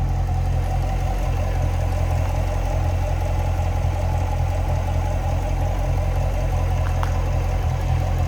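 A 2017 Chevrolet Corvette Stingray convertible 3LT with its 6.2-liter engine idles steadily, a deep, even rumble that holds unbroken and close throughout, with no talking over it.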